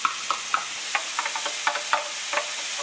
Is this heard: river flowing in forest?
no